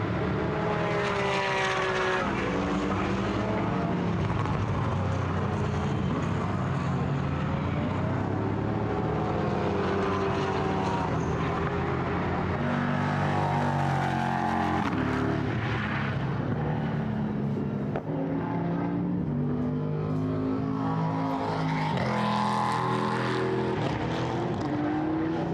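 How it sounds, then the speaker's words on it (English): GT race cars pass at speed during the 4 Hours of Portimão endurance race, their engine notes sweeping up and down in overlapping pass-bys. The roar stays loud and continuous throughout, with several cars following one another. "Across the line as well has come the Porsche Cup leader as well to start their final lap of the race."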